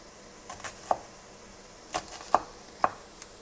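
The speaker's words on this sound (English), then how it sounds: "I'm terrible at chopping." Knife chopping food, likely an onion, on a board in a home kitchen: a handful of sharp, separate chops in an uneven rhythm, close and fairly quiet, with no voices.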